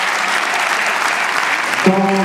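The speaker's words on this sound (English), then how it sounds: "on va les remercier encore les applaudir très fort" Audience applause at a chess event prize ceremony, a dense steady wash of clapping from a crowd, loud and continuous throughout, with a brief tonal voice or hum entering near the end.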